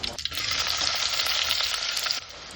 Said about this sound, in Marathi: आणि कांदा फ्राय केलाय.